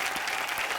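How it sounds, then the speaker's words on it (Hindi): A comedy show's studio audience breaks into brief, steady, enthusiastic clapping, dense and close, with no other voices heard. "एक बार शान और राधिका के लिए जोरदार तालियां।"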